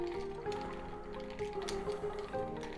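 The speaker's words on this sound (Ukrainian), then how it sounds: "Друга частина вставляємо в склянку і перемішуємо" A bar spoon stirs ice in a cocktail glass while a nonalcoholic spicy mango cocktail is made, giving soft, close, repeated clinks and wet swishes at low volume.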